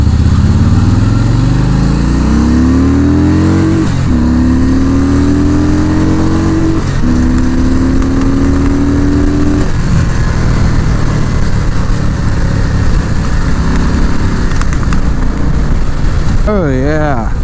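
A Harley-Davidson Fat Boy motorcycle accelerates hard, its loud close engine note rising through three gears with clear pauses at each shift, then giving way to a roaring rush of wind.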